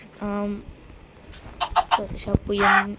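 A chicken clucks in a video game, short bright calls at the start and end with brief clatters in between, fairly close and clear.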